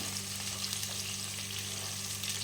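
Onions fry in oil until reddish brown for a Bengali rohu fish curry, giving a steady, close hissing sizzle with faint stirring underneath.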